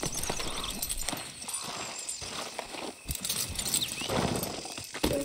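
Horse hooves clip-clopping in Red Dead Redemption 2, a steady walking rhythm of hoofbeats up close, with faint tack jingles and a brief snort mixed in.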